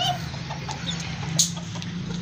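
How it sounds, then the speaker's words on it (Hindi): Chicks, hens and a rooster cluck softly and continuously nearby, with occasional sharper calls over a steady low hum. "ये हमारे चिक्स एंड मुर्गी एंड मुर्गा इनको ज़रा बाहर निकालते हैं"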